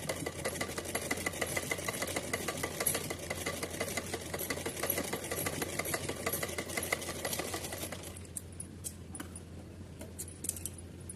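A sewing machine stitches a green doll dress in a rapid, steady mechanical rattle that runs close and continuous for about eight seconds, then slows into a few scattered clicks and stops.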